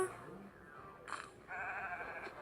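Sheep bleating in a game, a couple of short wavering bleats with a longer one toward the end, amid faint background game sound.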